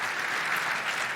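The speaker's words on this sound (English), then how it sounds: "give them a round of applause" Audience applause at a panel discussion event: a brief, steady wash of dense clapping at moderate level, with no talk over it.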